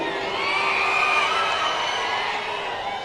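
A large crowd at a political election rally shouts and cheers continuously, a dense roar of many voices with whoops rising over it, loud and sustained throughout.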